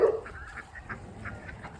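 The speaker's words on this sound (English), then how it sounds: "Just let the ducks out." Farm ducks honk and quack in a short burst of repeated calls, fairly close but not loud, over a low outdoor background. No one speaks.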